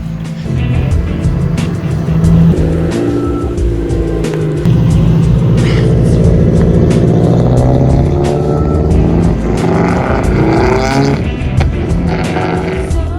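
A Subaru rally car at a rally school drives with its engine roaring loud and close, revs rising and falling through gear changes for several seconds, with gravel and road noise underneath.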